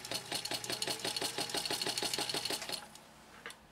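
A Singer 15-91 sewing machine stitches slowly through two layers of 100% cotton with quilt batting. Its needle thumps in an even, rapid rhythm for nearly three seconds, then stops, leaving a faint click and near silence.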